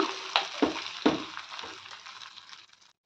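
Karnataka-style bisi bele bath stirred in a pan: three or four distinct scraping strokes of a spoon over a soft continuous sizzle that fades out, close and alone without talk.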